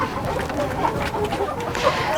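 Kuroiler hens in a brooder on a poultry farm give a steady chorus of clucks and soft calls, close and fairly loud, with no clear talk over them.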